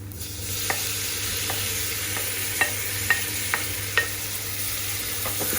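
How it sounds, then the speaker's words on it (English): Chopped tomato sizzles steadily in a pan of cooked garlic in an electric pressure cooker, with a few light clicks of stirring heard over the constant frying. "So once the garlic is cooked, in goes the tomatoes."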